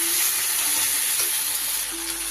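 Fried potatoes being stirred into crab curry in a hot pan: a loud, steady sizzle and hiss of frying with soft scraping of the stirring, close up and continuous, with no talk.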